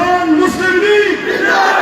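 A large political rally crowd at a PML-N youth event roars back a slogan in unison, a loud, sustained shouted chant filling the space without a break.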